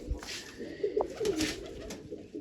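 Pigeons kept by a Punjabi pigeon fancier coo softly in short low murmurs around the middle, over steady outdoor background noise with faint higher calls.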